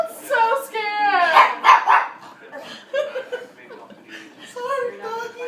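A dog barks and yelps several times at close range, short high excited bursts mixed with laughing voices, the barking returning near the end.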